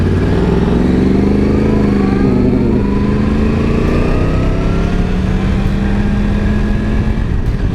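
Yamaha YZF R1 1000cc superbike accelerating hard, its engine note climbing steadily in pitch through a sustained, loud, close-up run with heavy wind rush and no pauses.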